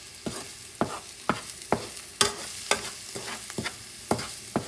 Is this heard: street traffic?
no